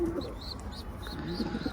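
Pet pigeons in an indoor nest with chicks coo repeatedly. The low, rolling calls are broken by a few thin chirps and stay fairly close and clear, with no speech.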